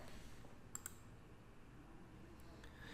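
Two quick, faint mouse clicks close together in a quiet room at a computer running Investor/RT charting software, with soft background hiss around them.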